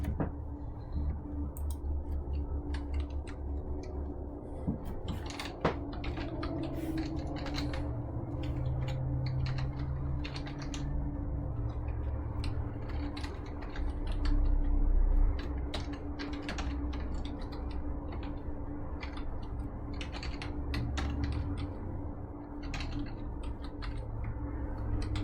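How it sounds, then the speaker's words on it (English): Steady typing on a computer keyboard while entering a polar-coordinates area integral into a graphing calculator, with rapid irregular key clicks running throughout over a constant low background hum. "I'm going to type this integral in Desmos"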